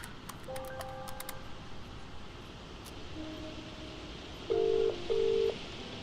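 A phone in a video game dials, with several quick keypad beeps followed by two longer ringing tones, clear and alone over a faint background hum.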